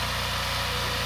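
A BCS walk-behind tractor fitted with a power harrow runs steadily while building garden beds, its engine droning loudly with an even, throbbing low pulse and broadband mechanical noise, no voices.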